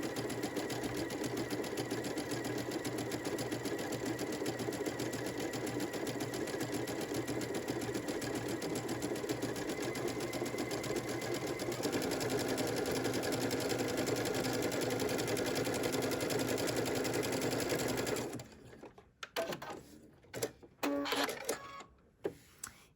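A sewing machine runs a 3-step zigzag stitch to join two pieces of fabric, making a fast, steady mechanical whirr and rhythmic clatter for about eighteen seconds. It then stops, leaving a few scattered clicks and handling sounds.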